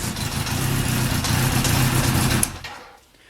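A motorcycle engine that has just started idles slowly and roughly close by with a low, steady rumble, then cuts off near the end.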